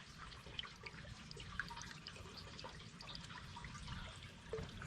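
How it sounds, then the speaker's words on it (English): Spring water trickles and gurgles from a hole in a nature preserve branch, a faint continuous babble with small drips and splashes, heard alone without voices. "And then that water comes from in here."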